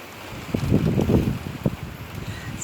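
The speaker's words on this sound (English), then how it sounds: "it's very windy today." Strong wind buffets the microphone outdoors in a garden, rising into loud gusty rumbles in the middle before easing to a lower rush.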